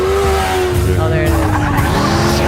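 A 1970 Chevelle SS muscle car in an action film scene skids with a loud tire squeal over a roaring engine, the screech continuous and close for a couple of seconds.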